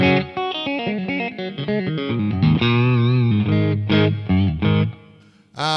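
An electric guitar on a clean channel plays a run of single notes and chords with a bright tone and lush reverb tails, ringing out before a brief pause.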